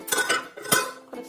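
A lid is set onto a pan of simmering fish curry, making two or three quick, close metallic clinks and a light clatter within about a second.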